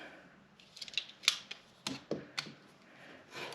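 Scissors cutting a 27-inch piece of main fabric, a quiet series of separate crisp snips and clicks spread unevenly across a few seconds, close by, with no voices.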